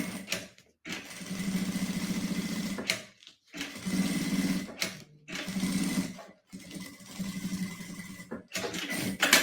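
A sewing machine stitches a seam in synthetic plastic fabric for a boxy pouch with pockets, running in several steady bursts of rapid mechanical whirring separated by short pauses, close and clear with no talking.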